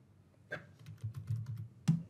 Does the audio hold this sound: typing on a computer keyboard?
yes